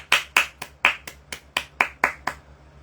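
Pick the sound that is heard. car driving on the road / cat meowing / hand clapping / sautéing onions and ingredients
hand clapping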